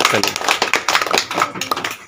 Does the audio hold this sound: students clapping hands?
yes